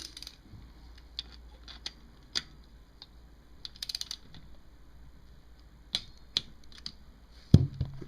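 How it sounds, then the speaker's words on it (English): Wrench torquing down a bolt on a 1985 Kawasaki VN750 engine during a rebuild, heard as sparse, faint metallic ticks and clicks spread over a quiet background, ending in one sharper knock, with no speech. "Let the spring tension up, and then I can torque that bolt down."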